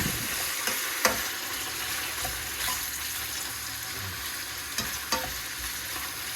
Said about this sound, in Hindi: इसमें हम थोड़ा सा चिकन को भूनेंगे